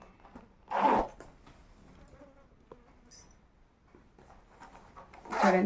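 Two short zipper pulls, one near the start and one at the end, with quiet rustling between them.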